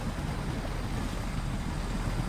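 A KRS Bandit truck with upgraded tires plunges into water in SnowRunner, a steady dense wash of splashing and churning water with low rumble throughout, loud and continuous with no talk.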